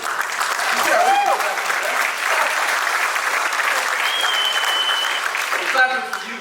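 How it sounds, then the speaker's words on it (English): An audience claps warmly for youth pastor Sam at a church open house, steady dense applause with a few cheers and whoops rising over it, heard throughout before fading at the end. "we're clapping for you, Sam"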